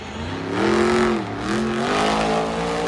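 The white-to-purple Tailgater monster truck driven by Tim Jones revs hard at Bristol Motor Speedway, its loud engine surging, dipping and climbing again in wavering pitch sweeps.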